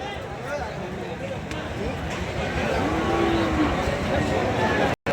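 Cattle lowing at a border-area livestock market where Shahiwal bulls are tied up for sale, with a drawn-out moo rising over a constant crowd hubbub and nearby voices.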